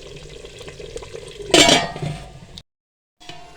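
A pot of palak gosht is covered with a lid, giving a brief metallic clatter over a low simmering, bubbling background, followed by a short silence before the cooking sound returns.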